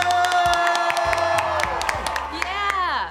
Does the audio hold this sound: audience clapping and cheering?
yes